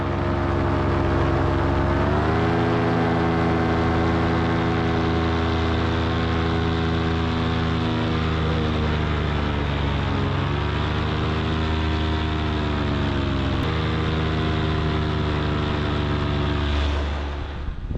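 Powered paraglider engine in flight over Dauphin Island drones loudly and continuously throughout, with slight pitch shifts as throttle changes, alone without talk, fading a little at the very end.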